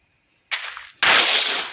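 Two sharp, loud gunshots ring out, the second louder with a crackling tail, like a sniper rifle firing in a game.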